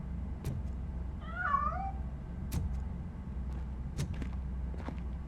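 A cat meows in the video game RoboCop: Rogue City, one wavering mid-pitched call rising and falling over a steady low game ambience, with sharp clicks and impacts scattered around it.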